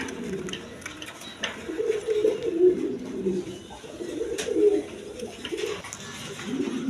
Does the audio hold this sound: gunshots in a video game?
no